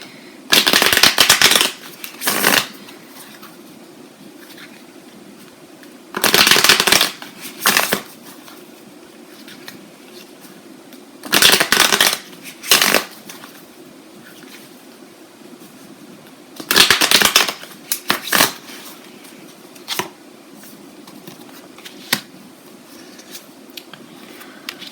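Tarot cards being shuffled in several separate bursts, each a quick riffling flutter lasting a second or two, loud and close, with quiet pauses between bursts and no talking.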